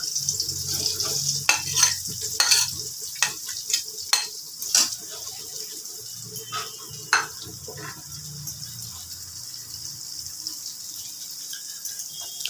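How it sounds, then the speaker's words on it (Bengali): Grated ginger for paneer bhujiya goes into hot oil and gives a soft high sizzle, with several clinks of a utensil against the pan early on. Low background murmur runs beneath, and the sizzle settles into a quieter hiss. "এবারে আমি দিচ্ছি গ্রেট করে রাখা আদা।"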